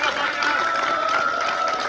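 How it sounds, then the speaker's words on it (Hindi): An audience claps loudly with dense, steady applause that holds at an even level for the full two seconds, with no pause or break. "बॉलर जोरदार ताली बजाकर।"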